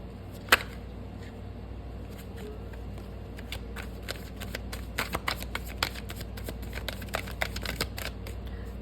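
Soft, rapid riffling of tarot cards being shuffled, quiet and close, in repeated bursts after a single sharp tap near the start.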